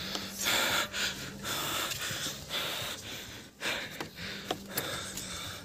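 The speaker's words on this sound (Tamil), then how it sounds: "மூச்சு வாங்குது பயங்கரமாக." Heavy, rapid panting from a hiker climbing the steep Kondarangi hill at about 3,825 feet, a steady run of close gasping breaths repeating for several seconds.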